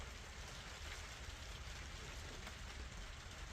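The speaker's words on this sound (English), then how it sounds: "It'll just be a good, chill, rainy day." Steady, soft rain falls on a sailboat at Akron Marina, a constant even hiss with no breaks, faint and wide, with no voices.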